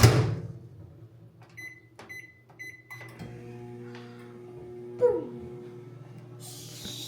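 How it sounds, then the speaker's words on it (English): A microwave oven hums steadily with a low drone through most of the stretch, joined by a few short beeps and clunks near the start and small whimpers from a dog partway through. "Gonna microwave this for a minute 30."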